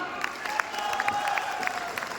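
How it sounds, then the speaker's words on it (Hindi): A seated crowd at a Gurjar community political gathering gives a round of clapping, a dense patter of hands with sharper individual claps standing out and faint voices and cheers mixed in. "जोरदार तालियों के साथ"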